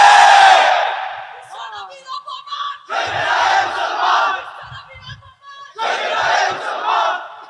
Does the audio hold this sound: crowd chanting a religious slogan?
yes